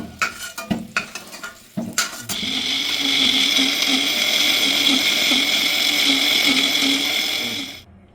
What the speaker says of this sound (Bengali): আমি আগে থেকে ভেজে রাখা মশলাটাকে মিক্সিতে পেস্ট করে নিই